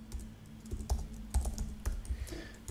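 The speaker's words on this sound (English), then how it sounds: "we're just going to type in" Quick bursts of clicking from a computer keyboard, soft and close with an uneven rhythm, recorded in a quiet room.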